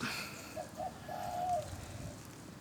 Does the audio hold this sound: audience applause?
no